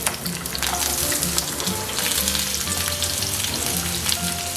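Garlic cloves and a large onion frying in hot oil for Kerala-style chicken sukka, giving a steady, close, crackling sizzle throughout with occasional utensil scrapes and no talking.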